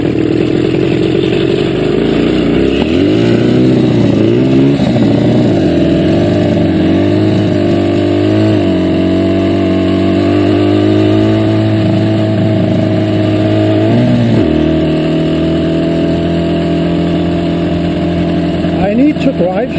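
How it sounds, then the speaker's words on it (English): A Rumi Corsa motorcycle engine running on a slow test ride while warming up, a loud, close, continuous mid-pitched drone whose pitch rises and dips with gentle throttle changes, easing down near the end. "I need to drive slowly because the motor must be warm before I can give it some stick."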